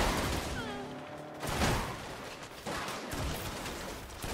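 Gunfire bursts in the Saints Row video game, rapid loud shots clustered in several volleys with brief pauses between them, over a dense, noisy background.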